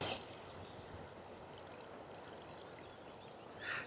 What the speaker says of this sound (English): Let's give this a water.